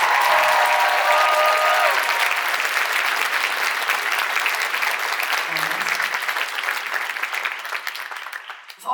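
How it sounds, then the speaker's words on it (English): A concert audience at a theatre show applauds a guitarist named Kirk, loud dense clapping and cheering that swells at once and slowly thins toward the end. "A huge round of applause for my friend Kirk."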